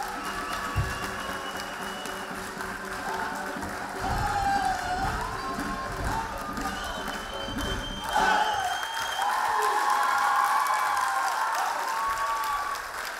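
A theatre audience gives a long, steady burst of applause after a dance ensemble's festival performance, dense clapping that swells and carries on throughout with a faint crowd murmur beneath.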